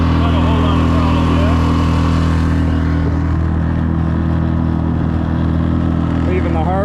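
A Pond Prowler boat's engine drones steadily at low throttle, about 6 miles an hour, while leaving a harbor toward Catalina, loud and continuous under wind and water noise, with a voice speaking over it.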